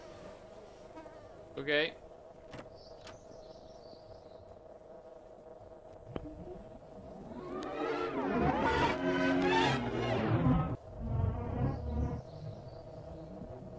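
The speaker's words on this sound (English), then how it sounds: "You hear the buzzing of flies coming from the woman and the apples." Video game flies buzz in swelling, wavering bursts around a woman and rotting apples, growing louder mid-clip amid other eerie effects, with a brief spoken word early on.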